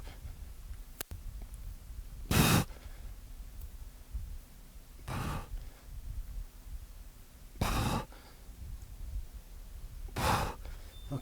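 Heavy exercise breaths come during a bootcamp leg-lift set: four strong, close exhales or gasps at steady intervals of about two and a half seconds over a quiet background.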